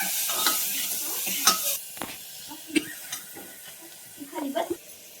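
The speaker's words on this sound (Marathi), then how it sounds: "कांदा टोमॅटो पटकन भाजासाठी मीठ टाकलं" Onion and tomato frying in a pan with salt added, a soft sizzle under scattered clinks and scrapes of a spoon stirring against the pan, close and fairly quiet.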